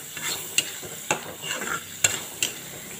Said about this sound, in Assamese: মিডিয়াম জুইতে ভাজি থাকিম শুকান নোহোৱালৈকে।